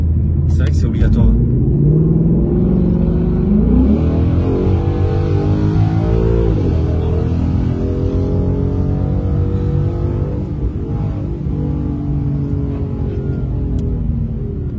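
Ford Mustang GT with a 5.0 V8 engine, a deep continuous rumbling growl that rises and falls as it revs, loud and close throughout, with people talking over it.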